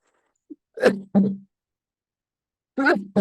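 A person sneezes once during a Spanish-language talk on tarot, a short sharp burst followed by speech-like sounds, with a brief vocal sound after a pause.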